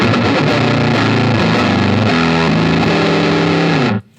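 Loud, gritty electric guitar through an MXR Il Diavolo overdrive pedal playing a chunky riff of sustained chords, alone, cutting off abruptly at the end.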